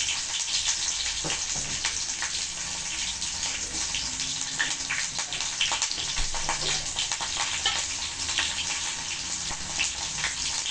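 Onions and green chillies frying in oil for Chettinad fish kulambu, a dense continuous hiss of sizzling that stays steady and fairly loud throughout, with faint scattered crackles and no voices.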